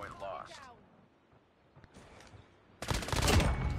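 Gunfire in the mobile shooter Call of Duty Mobile: after a quieter stretch with brief voices and faint game sounds, a sudden loud burst of rapid shots fills the last second.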